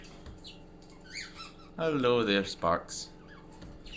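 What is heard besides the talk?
budgies squawking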